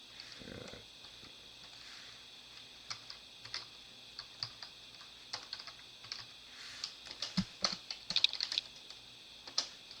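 Computer keyboard typing, scattered light key taps that come sparsely at first and then in quicker irregular bursts toward the end, close and fairly quiet, no voices.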